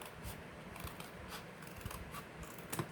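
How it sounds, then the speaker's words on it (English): Repeated crisp snips of scissors cutting close by, a steady series of sharp blade strokes over light rustling, while making a farmhouse planter. "So you can just take your scissors"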